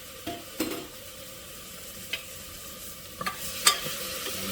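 Garlic hits a pan of slowly cooked onions over low heat, giving a steady sizzle and frying crackle. Occasional sharp clinks and scrapes from stirring cut through, close and fairly loud.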